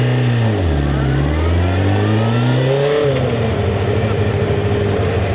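Honda CBR F3 motorcycle accelerating across traffic in Exeter, its engine revving loud and close, rising through gears with a brief dip and then a sustained strong drone.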